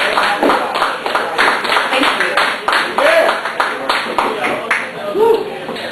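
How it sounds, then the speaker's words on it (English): A live audience applauds a poet at a Stripped show reading, a steady wash of clapping with a few whoops rising over it for several seconds. "Let us have a big round of applause for Janet Kuipers."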